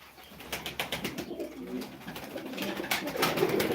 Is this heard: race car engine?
no